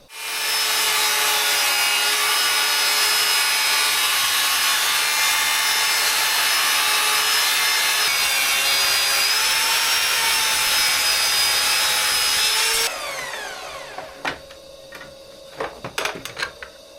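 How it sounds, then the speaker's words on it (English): A track saw set at 45 degrees cuts mitres in reclaimed pallet wood: a loud, steady high-pitched whine with rasping cutting noise runs for about thirteen seconds, then the blade spins down and a few clunks and handling knocks follow. "So I'm going to use my track saw at 45 degrees for this."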